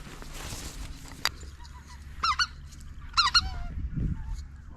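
Flying spring snow geese give several bursts of honking calls, faint and fairly distant, over steady outdoor background noise during a hunt.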